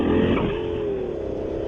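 A 2021 Honda Africa Twin 1100 motorcycle pulls in first gear with a brief, loud engine roar that rises then settles, heard up close with wind noise.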